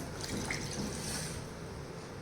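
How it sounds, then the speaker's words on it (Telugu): Water pouring into a pot of goat head curry in a home kitchen, a steady close splashing trickle that runs continuously for about two seconds with no talk. "వాటర్ నాకు సరిపోయినంత నేను పోసుకుంటున్నాను"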